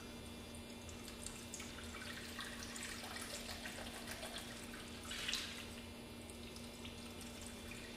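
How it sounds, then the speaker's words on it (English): A gentle, steady trickle of liquid as two cups of rice milk are poured into a dairy-free flan mixture, faint and continuous over a low hum, with a brief louder splash near the end and no talking. "we're going to add to that 2 cups of rice milk"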